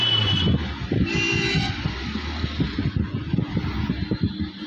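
A Ford Figo Titanium with a check engine light fault is started and revved, giving a steady low engine rumble with pulsing surges, close and fairly loud throughout.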